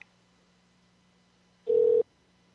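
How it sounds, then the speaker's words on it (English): Single short electronic phone tone, a clean steady beep lasting about a third of a second, during a cell phone call placed over a live radio broadcast, with a quiet hum before and after. "I might have to try and call him on his cell phone."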